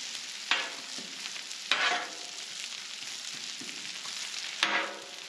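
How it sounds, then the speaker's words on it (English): Thin-spread russet potato hashbrowns fry on a Blackstone griddle with a steady close sizzle, broken by three sharp scraping clatters of a spatula. "The next ones I'm gonna cook are the russet potatoes. You're gonna wanna spread these out real thin"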